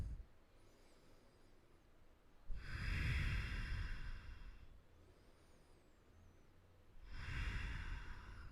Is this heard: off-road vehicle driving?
no